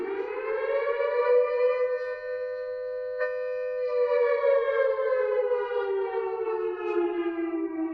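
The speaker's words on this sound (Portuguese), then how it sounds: "som que você escuta da sirene" A civil defense siren wails in one long sustained tone, rising and then slowly falling in pitch, loud and steady with no voices.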